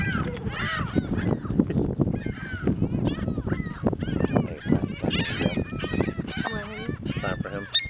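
Gulls honking and squawking in a dense, overlapping chorus through the whole stretch, loud and close, with a voice mixed in among the calls.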